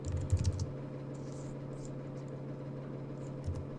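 A few quick keystrokes on a computer keyboard entering a command on a Mac, faint and close, clustered in a short burst at the start with one more tap near the end over a steady low hum.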